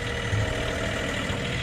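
A John Deere 3520 tractor engine throttles up to push through deep snow in -20 cold, a steady, loud mid-range drone with continuous vibration and no pauses, heard up close and alone.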